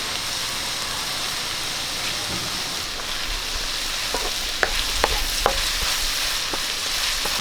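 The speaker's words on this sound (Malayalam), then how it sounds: "സവാള ഒന്ന് വഴുന്ന് വരാൻ വേണ്ടി നമുക്ക് കുറച്ച് ഉപ്പിട്ട് കൊടുക്കാം" Onions sautéing with salt in a pan for a chicken curry, a steady close sizzle throughout with a few sharp scrapes of stirring near the end.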